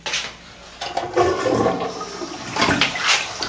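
A hotel room toilet flushing: a full, rushing gush of water that swells and churns for a few seconds, close and loud, with no talk.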